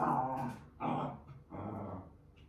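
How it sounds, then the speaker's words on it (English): Dogs growl and snarl while playing, in rough, rumbling bursts, with short pauses between them, close by and fairly loud. "Sorry about the dogs."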